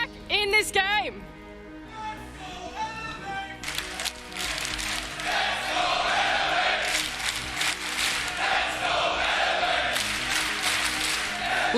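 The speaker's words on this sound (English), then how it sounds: "the crowd cheering for Elevate, finally back in this game" A large arena crowd at an esports major in Berlin roars and chants for a team, a dense, sustained wall of cheering that swells over the clip, with a caster's voice talking over the start.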